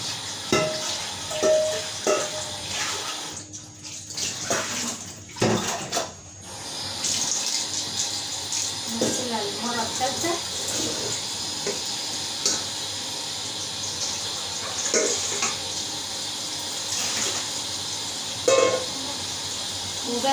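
Running tap water splashes steadily as something is rinsed and scrubbed under it in a sink, a continuous watery hiss broken by brief pauses and handling clatter, close by with no talking.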